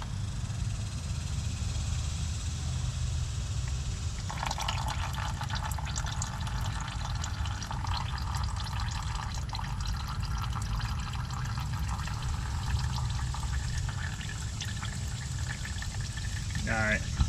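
Transmission fluid draining from a 2011 Toyota Sienna during a fluid and filter change, a steady trickling wash of liquid lasting throughout under low background hum.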